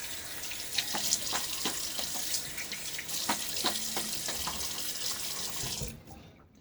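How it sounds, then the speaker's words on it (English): Tap water runs steadily into a sink while a face is rinsed after a wet shave, a close, continuous splashing stream with scattered louder splashes that stops abruptly near the end. "Okay, so rinse my face now."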